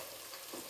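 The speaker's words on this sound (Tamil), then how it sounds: "வெங்காயம் நல்லா வதங்கி வருது." Chopped onions sauté in a heavy-bottomed pan for vegetable rice, giving a short, steady, soft sizzle and crackle, close and low in volume.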